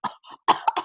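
A person mimics a cough with several short, breathy bursts, a pause and then a quick cluster of louder coughs, close to the mic.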